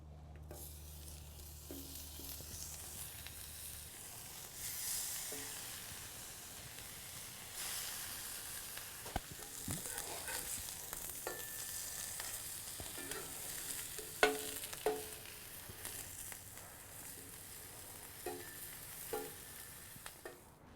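Kielbasa cooks in canola oil on a small ceramic plancha set on a PK grill, a soft continuous sizzle and hiss with scattered pops, clicks and utensil scrapes, fairly quiet and close with no voices.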